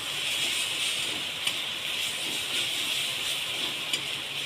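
Spices with onion fry in a pan for a country chicken curry, giving a steady, close hiss and sizzle that holds evenly throughout, with a couple of faint clicks of the stirring spoon and no talk.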